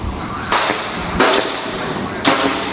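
Three sharp, loud PCP air-rifle shots crack out at uneven intervals, each a quick snap over a quiet low hum.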